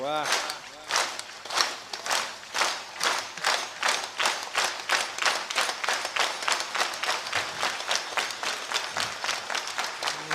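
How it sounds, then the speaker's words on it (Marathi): An audience at a kirtan claps in unison to a steady beat, loud, regular claps close together in a rhythmic pulse that runs throughout with voices faintly underneath. "एक हात वर हा टाळी, एक बरोबर तालात, एक जरा ताकद लावा"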